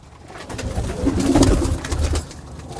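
Teddy pigeons, an old-bloodline Kamagar breed, coo in low rolling murmurs from their loft, a soft layered burble that swells and fades with some fluttering rustle alongside.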